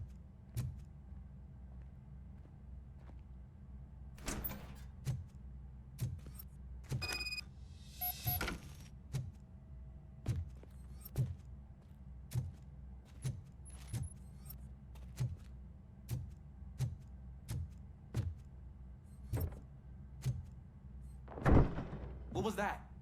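Mechanical thunks and clunks of a door being forced open in Robocop: Rogue City, a regular series of heavy thuds with a couple of louder metallic bursts, over a low steady hum with faint talk.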